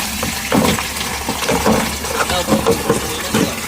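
Water gushes and splashes into a tank being filled, a continuous noisy pour with uneven surges, while voices can be heard faintly in the background.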